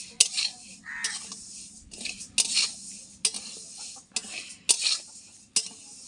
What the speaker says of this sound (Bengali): এই যে মুগের ডাল ভাজা হচ্ছে।